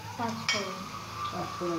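Panch phoron seeds crackle and sizzle in hot oil in a kadai, with a sharp clink of a utensil against the pan, underneath a voice speaking Bengali through most of the moment.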